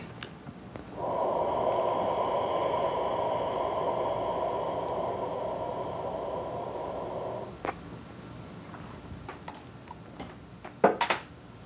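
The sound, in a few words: inhaling deeply, smoking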